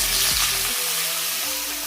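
Pumpkin and small fish frying in a pan with green chillies, a steady close sizzle with a brief stirring scrape partway through, no voices.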